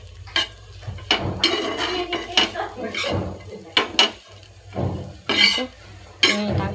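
A utensil mixes a zero-oil snack with red chilli, green chilli and tomato sauce in a bowl, giving repeated close clinks and scrapes against the bowl in irregular bursts. No one speaks.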